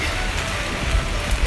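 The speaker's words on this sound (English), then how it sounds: "What do you do in Rome when it rains?" Heavy rain falls on a street in Rome, a loud continuous wash of splashing water with low traffic rumble beneath.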